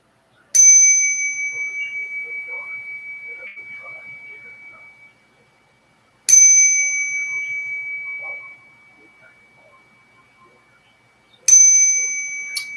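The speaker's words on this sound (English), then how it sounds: "Oh, I need the bell again, you guys." A small bell rung three times, each bright ding struck sharply and then left to ring out in a long, slowly fading tone, heard alone with quiet gaps between strikes.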